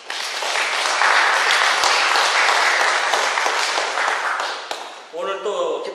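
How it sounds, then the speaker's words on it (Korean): Welcoming applause from a church congregation during an Anglican service, loud dense clapping swelling and holding steady before fading out as a voice comes in near the end. "환영의 박수"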